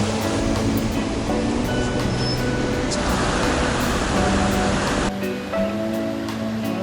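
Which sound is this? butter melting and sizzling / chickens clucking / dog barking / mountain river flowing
mountain river flowing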